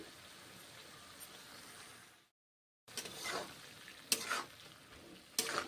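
Cabbage with garlic, salt, turmeric and a little water being sautéed in a pan: faint, quiet sizzle and stirring that breaks off into a brief silence, then returns with a few louder scraping bursts.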